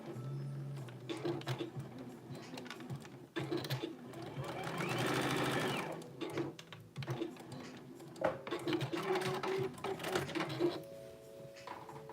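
A sewing machine stitches in close, loud runs of rapid mechanical clatter, starting and stopping several times with short pauses between bursts.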